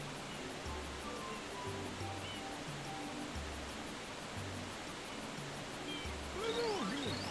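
Steady rushing water from a waterfall and the ocean in the video game Super Mario Sunshine, a continuous broad hiss under soft, repeating low game music, with a brief rising chirp near the end.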